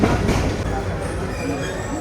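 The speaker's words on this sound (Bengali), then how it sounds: "1 নম্বর প্ল্যাটফর্মে এসছে আমাদের ট্রেন" A passenger train pulls into a busy platform at Laksam station, a dense rumbling rail noise close and steady, mixed with crowd murmur.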